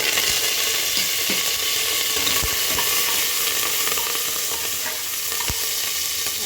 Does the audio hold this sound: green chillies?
yes